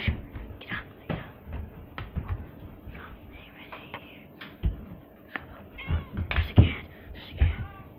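A cat meows several times in short separate cries against a quiet indoor background, with soft shuffling and faint whispery sounds between calls.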